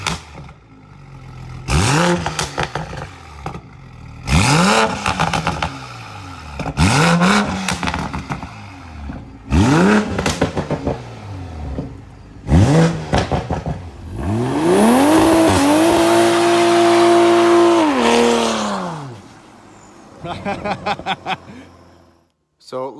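A Toyota MKV Supra with a crackle exhaust tune revs repeatedly in short, sharp bursts, each rising and falling back, followed by a longer held rev with popping from the exhaust, loud and close, with people talking between the revs.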